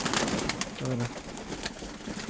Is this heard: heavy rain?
no